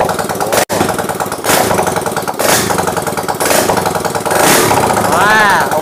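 A freshly rebuilt Honda Click 125i scooter engine with a 56 mm piston and lengthened stroke runs loudly indoors, its exhaust inside a room. It gives a steady, rough throbbing drone with a few revs and a brief dropout, and voices are faintly heard.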